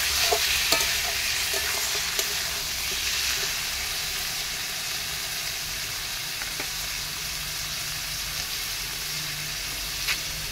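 Chicken pieces stirred in a hot frying pan for biryani, with steady loud sizzling throughout and scattered scraping clicks of the spoon against the pan, no voices.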